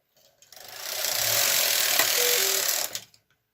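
A Brother KH 230 knitting machine carriage is pushed across one row, giving a single close, steady mechanical whirring sweep of about two and a half seconds. Soft clicks come at the start and end of the pass.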